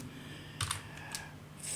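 Fingers tap quietly on a computer keyboard, a few soft scattered key clicks over a low steady room hum while entering LaTeX code.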